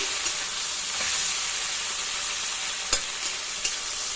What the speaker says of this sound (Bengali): সেই মাছটাই এখন আমি একটু ভেজে নিচ্ছি